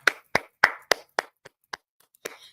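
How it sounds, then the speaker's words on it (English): A single person claps hands about nine times in a loose, uneven rhythm, with sharp, close, fairly loud claps and short gaps between them, and no voices. "we need to clap it up for Juke"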